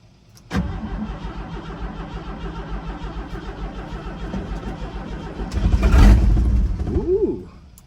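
An old inline six engine starts in the cold after fuel is pumped: a sudden crank and catch, then a close rough idle, a louder rev swelling near the end, and a fade.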